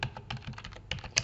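Keys clatter on a computer keyboard in quick, uneven bursts during a Microsoft Word exercise, close and clear with no voices over them.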